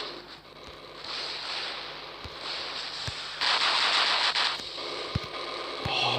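Rapid gunfire and robot weapons in the mech combat game War Robots crackle in dense bursts, with a loud sustained volley in the middle and scattered sharp impacts around it.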